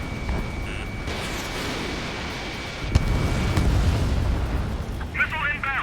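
A deep explosion bursts in Ace Combat 7 aerial combat, a sudden low boom followed by a sustained rumbling roar of jet and blast noise, with a radio voice chattering over it near the end.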